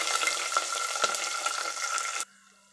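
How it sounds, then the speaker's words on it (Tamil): Whole spices, including cinnamon bark, fry in hot oil for a Hyderabadi chicken gravy, giving a steady, close, bright sizzle with small pops that cuts off abruptly near the end, leaving a faint hum. "இது நல்லா பொரியட்டும்."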